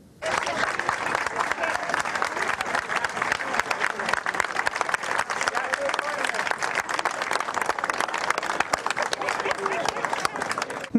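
Residents of the Greek town of Aigio greet opposition leader Alexis Tsipras with steady, lively outdoor applause, a dense crowd clapping continuously for about ten seconds with voices mixed in.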